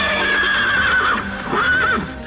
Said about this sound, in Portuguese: ele ergueu-se sobre as patas traseiras e começou a relinchar